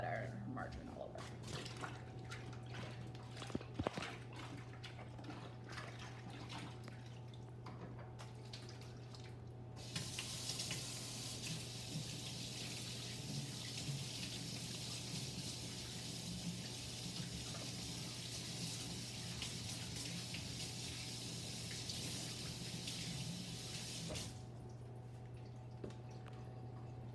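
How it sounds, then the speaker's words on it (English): Tap water runs into a kitchen sink for hand washing after handling butter and margarine, starting as a faint trickle and then gushing steadily for about fourteen seconds before cutting off, over a constant low hum. "I'm going to wash my hands first because I got butter and margarine all over."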